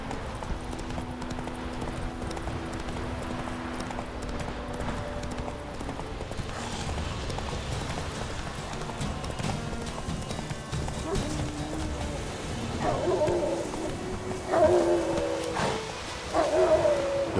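Horse hooves clop along steadily in an open-world fantasy video game, moderately loud, with background music and ambient game sounds running throughout.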